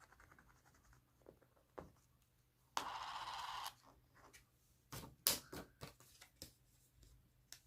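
A scratch card scraped by hand: a steady scrape of about a second stands out among quieter scattered scratches and taps, close and faint in a quiet room, with no talking.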